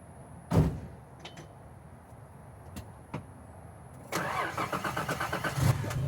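A 1984 Nissan 300ZX Turbo fires up after a couple of thuds, its engine catching and settling into a steady, close idle with no one talking.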